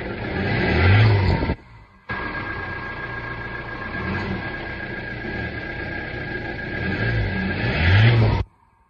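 A 2008 Ford Transit van engine starting from cold, loud revving surges near the start and end with a steady running drone between, cutting out briefly and again at the close; no talk.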